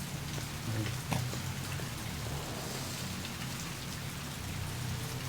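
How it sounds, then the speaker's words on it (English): Rain falls steadily in the Blade Runner (1997) video game, a soft, even patter on surfaces with faint low background hum, continuous and fairly quiet throughout. "Man, the rain looks so sick."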